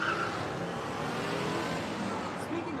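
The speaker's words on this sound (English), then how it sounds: "that car that just peeled away" A red Volvo S40 pulls away hard from the curb on a cold night, its engine roaring as a steady, fairly loud rush that lasts the whole moment.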